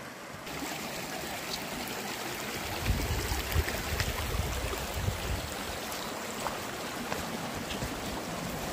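A river flows through a forest below a mountain, a constant rushing, gurgling wash of water with a slightly louder surge in the middle, heard alone without speech.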